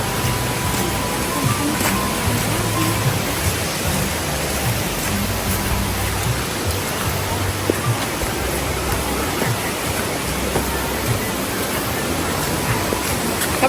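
Chantathen waterfall at Bang Phra, Chonburi, a rocky-stream setting, produces a steady, dense broadband rush of falling and flowing water, constant and fairly loud throughout with no speech.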